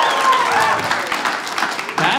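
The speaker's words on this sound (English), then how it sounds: "Round of applause." A comedy-show crowd gives a short burst of applause of moderate loudness, with a murmur of voices and a few whoops mixed into the clapping.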